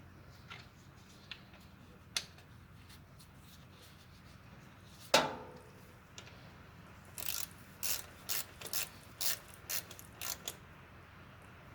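Oil drain plug being reinstalled and tightened on a 4.6L Toyota Tundra, a few faint clicks and one sharp clank, then a quick series of close ratchet clicks in short bursts, no talk.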